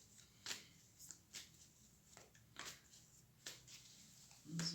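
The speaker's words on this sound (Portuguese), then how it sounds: "Eu já embaralhei um pouquinho, vou embaralhar mais um pouquinho e começar." Waite traditional tarot deck shuffled by hand, a series of soft, quiet riffling bursts spaced about a second apart, close and faint, with no talking.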